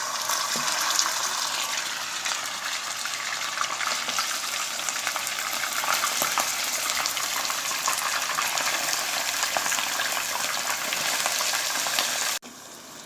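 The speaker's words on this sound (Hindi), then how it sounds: "ऑयल हमारा गर्म हो चुका है और अब हम इसमें गोश्त ऐड करेंगे" Mutton pieces frying in hot oil in a karahi for Shinwari mutton karahi, a continuous dense sizzle and crackle at even loudness, close by, ending with a sudden drop near the end.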